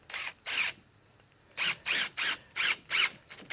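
A power drill drives screws into an abandoned Victorian home's wooden front porch to draw a part into place, in about seven short, whirring bursts separated by brief pauses, close and fairly quiet.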